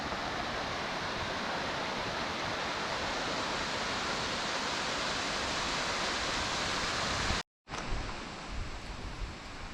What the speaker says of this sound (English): now we come to another waterfall right here